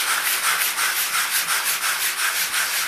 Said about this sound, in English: black sandpaper and get it wet, wet sandpaper.